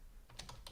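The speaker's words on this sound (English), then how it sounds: "we need to type in the command vi" Several quick keystrokes tap on a computer keyboard as a short command is typed, faint and close, with no voices.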